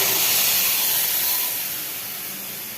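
Boiled lentils hit hot oil seasoned with nigella seeds and fried chopped garlic, giving a loud, steady steamy hiss that slowly fades.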